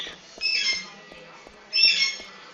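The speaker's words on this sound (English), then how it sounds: "Oh my god, the fucking bird!" An in-game bird in Deadly Premonition squawks harshly in two loud bursts separated by a pause, with a faint rhythmic ticking underneath.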